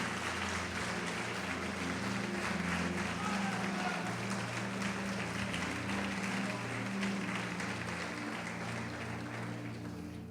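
Church congregation applauding during a sermon, a sustained wash of clapping from many hands over a low steady hum, holding evenly for about ten seconds.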